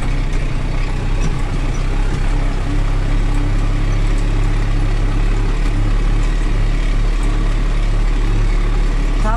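A tractor engine runs steadily while sowing barley in a field, a loud, close, constant low diesel drone holding one speed throughout without pauses.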